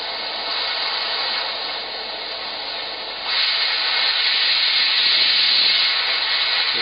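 Steady broadband hiss of a Bernzomatic OX2550 oxygen and MAP gas torch flame burning at the nozzle, loud and continuous, stepping up slightly louder partway through and holding there with no talk.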